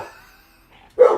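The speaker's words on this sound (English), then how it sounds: "This is our puppy down here, Barbara." A puppy gives a single short, loud bark near the end, after a stretch of faint background tones, as in a household with several dogs including a husky and a Great Pyrenees.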